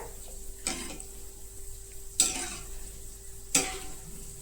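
Balushahi fries slowly in oil over a low gas flame, a soft steady sizzle with a faint hum beneath, broken by three sharp metallic clinks of a utensil against the pan.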